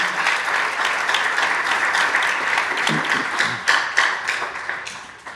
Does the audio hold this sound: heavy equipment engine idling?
no